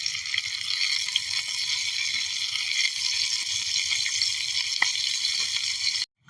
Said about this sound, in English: The smoked Polish sausage is cooking and they smell so good with these onions.